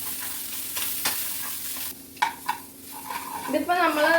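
A coconut mixture for a Goan seafood dish is stirred in a frying pan: a spoon scrapes and knocks against the pan in short strokes over a soft, steady sizzle, close up.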